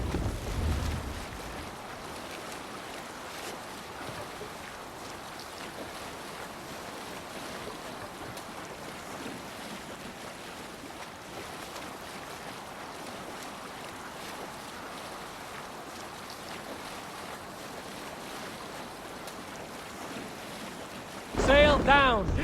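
A Viking longship sails over open sea in Assassin's Creed Valhalla, with a steady rush of wind and waves washing continuously for over twenty seconds and a louder splash near the end.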